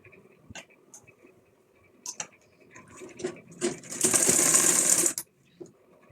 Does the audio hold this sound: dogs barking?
no